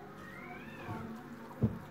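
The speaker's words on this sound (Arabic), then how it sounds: "هذا القطط عم تقتلوا عنا بالحارة" Neighbourhood cats fighting outside a home kitchen, heard as a faint, drawn-out meowing wail that rises and falls, with a brief bump near the end, all under a steady low room hum.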